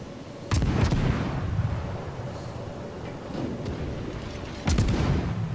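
Naval gunfire from an enemy Gneisenau battleship striking a player's ship in World of Warships, with two loud booming impacts at the start and end over a continuous low rumble of the game's engine and sea ambience.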